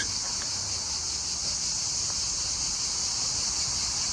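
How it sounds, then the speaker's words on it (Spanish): Loud, steady high-pitched cicada drone fills the air continuously near Marseille, an unbroken shrill buzz with no pauses. "Impresionante el ruido de las chicharras"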